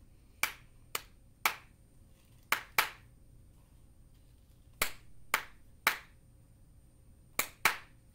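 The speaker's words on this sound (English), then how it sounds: "I am going to do a pause in the middle when I'm clapping" A teacher claps a rhythm pattern alone in a quiet room. About ten crisp, close hand claps fall in short groups separated by pauses, with one longer gap in the middle.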